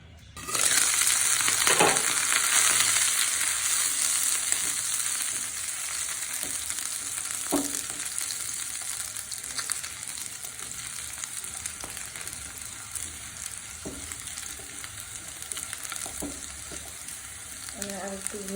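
Garlic fries in a pan for garlic bharta, a loud sizzle at first that settles into a steady, softer crackle with occasional stirring clinks.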